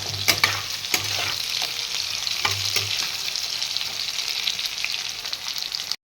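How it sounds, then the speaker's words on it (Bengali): Spiced potato and eggplant sautéing in a pan with black cumin, ginger, chilli, coriander and cumin powders, a steady close sizzle broken by repeated scraping stirs of a spatula. "এখন আমি এটাকে কষাচ্ছি,"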